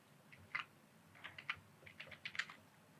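Computer keyboard keys tapped in short irregular bursts while code is typed, close and fairly quiet, with no voice.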